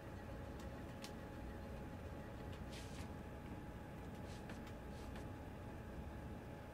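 A London Underground train in the video game Uncharted 3 gives a continuous low rumble and rolling clatter, with faint metallic ticks and a few brief hissing bursts above it.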